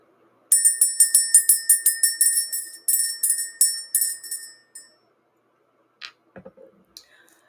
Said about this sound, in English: let's go ahead and ring the bell